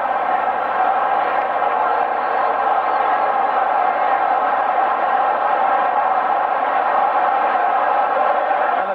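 Football stadium crowd at a Jacksonville Bulls game roaring continuously, a dense, steady wash of many voices cheering that stays loud and even throughout without a break.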